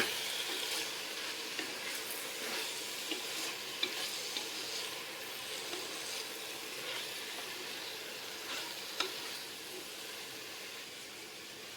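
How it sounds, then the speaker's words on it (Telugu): Fenugreek leaves and other greens stir-fried in a pan for green pulao: a steady, soft sizzle and hiss runs throughout, broken by faint scraping stirs at scattered moments, with no talk. "మిక్స్ చేసుకొని ఇవి బాగా ఫ్రై అయ్యేంత వరకు ఫ్రై చేసుకోవాలి."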